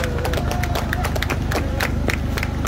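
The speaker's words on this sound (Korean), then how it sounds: "박수 한번 쳐드리세요." Rhythmic crowd clapping at an outdoor presidential election rally at a street intersection in Korea, quick regular claps over a low thumping loudspeaker beat, fairly close.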